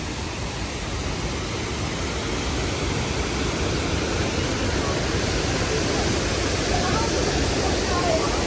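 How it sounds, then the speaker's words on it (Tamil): Steady, dense roar of water pouring down from a rocky waterfall, a broad continuous wash of noise that holds unbroken and close for the whole stretch, with no voices over it. "அந்த அருவியிலேருந்து விழுகிற தண்ணி"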